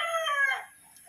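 A rooster crows in one drawn-out, wavering call lasting about half a second, loud and close, then fades into quiet with faint background sound.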